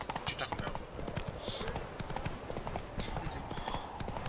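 Horse hooves clip-clop in a steady rhythm in The Witcher 3: Wild Hunt, quick repeated hoofbeats of a ridden horse, with game sounds and a voice talking over them.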